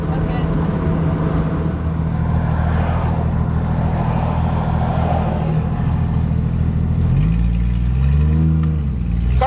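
A 1964 Ford Ranchero engine pulls steadily in second gear with a loud, continuous drone that rises in pitch toward the end, while someone talks over it.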